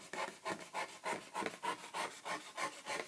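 A knife gently saws through a cardboard board game board, a rhythmic back-and-forth rasp of about ten even strokes, close and alone.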